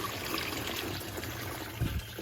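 Steady trickle of water running from an off-grid tiny cabin's water pipe, a continuous close splashing stream draining into a bucket, with a brief thicker gush near the end.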